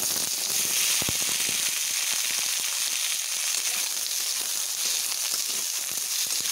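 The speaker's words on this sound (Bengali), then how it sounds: "এবার আমি একটু ভেজে নেব।" Thin-sliced wax gourd frying in hot oil with tempered spices for a chutney, a steady, dense sizzle with scattered crackles and pops that holds evenly throughout, close and fairly loud, with no talking.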